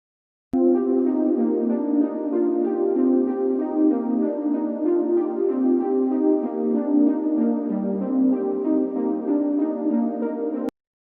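Synthwave arpeggio played on a Synth 1 software patch with lots of reverb, a steady pulsing run of bright notes repeating for about ten seconds, heard alone with no voice.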